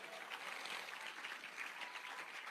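Applause from a church congregation at a youth gathering, steady and fairly faint, a dense wash of clapping sustained throughout without a clear voice over it.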